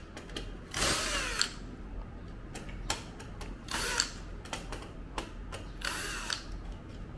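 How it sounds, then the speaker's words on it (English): Tools take the screws out of an IGS Ocean King 3 Plus fish table machine, giving quiet, close clicks and short ratcheting and whirring bursts that come in uneven spurts with pauses between them. "use the tools to take the screws off."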